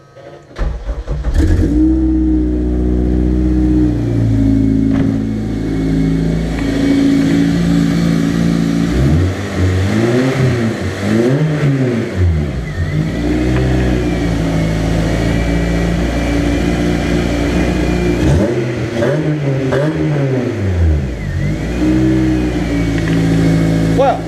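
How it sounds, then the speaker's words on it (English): A cold four-cylinder car engine with newly fitted fuel lines is revved hard several times in a workshop. Loud, rising and falling engine sweeps alternate with rough idling, close to the microphone, with no talk over it. "Bit too ambitious with the revving."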